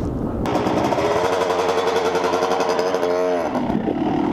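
A dirt bike engine kicks to life and runs loud and close, its buzzing exhaust note holding steady and then briefly revving up and falling back before settling.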